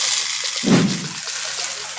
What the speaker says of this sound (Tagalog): Tapos nilalagyan ko muna ng tubig para mag-expand yung mga pellets.